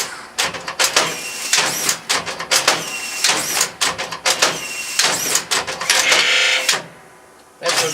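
A strapping machine on auto feed cycles as its strap reel runs out. It makes loud, close, rapid mechanical whirring and clattering bursts in quick succession, then goes briefly quiet before one more burst.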